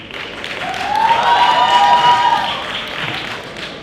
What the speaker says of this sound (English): So let's give us a round of applause.